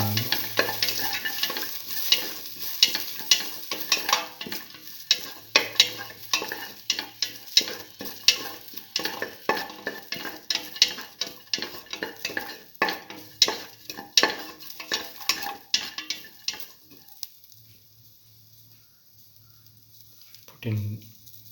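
Garlic frying in a pan for a black lentil and ash gourd stew, with a spoon stirring and scraping in steady repeated strokes over a continuous sizzle, near and fairly loud, easing off near the end before a final scrape.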